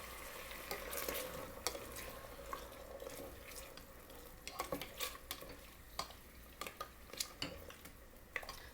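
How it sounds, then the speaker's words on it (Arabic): Small pieces of chicken hit hot onions in a cooking pot for white bean stew, sizzling steadily with sharp clinks and stirring scrapes scattered throughout at moderate level, no voices. "الحين أضيف الدجاج، أنا مقطع الدجاج هنا قطع صغيرة"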